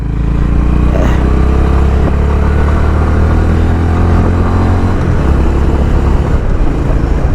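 A Honda H'ness CB 350 motorcycle pulls away as the clutch is released, its loud, steady engine thrum building with a low throbbing note close by, no voices over it.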